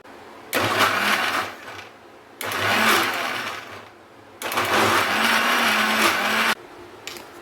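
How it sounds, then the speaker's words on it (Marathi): A kitchen mixer grinder pulses through a thick mango ice cream mixture in three loud whirring bursts separated by short pauses. "मिक्सरचं बटन चालू बंद चालू बंद करून आपल्याला हे आईस्क्रीमचं मिश्रण बनवून घ्यायचं आहे"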